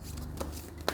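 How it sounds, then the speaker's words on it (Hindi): Tarot cards shuffled and drawn by hand during a Leo horoscope reading, a soft continuous riffle with two brief, sharper card snaps near the middle and end, quiet and close, with no talking. "Universe, please give me one card."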